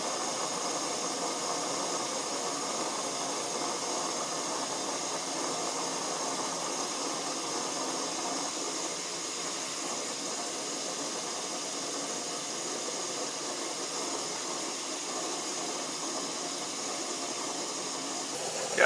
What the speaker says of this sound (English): as you can see, the water is starting to boil